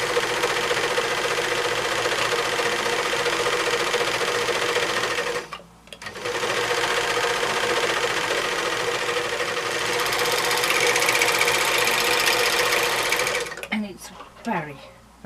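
Serger overlocker sewing machine stitching fabric, running as a loud, steady, close mechanical whir that stops briefly, resumes at a constant speed, and then winds down at the end.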